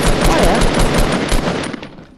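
Rapid automatic gunfire in a Fortnite match, a loud continuous stream of shots close by that trails off at the end.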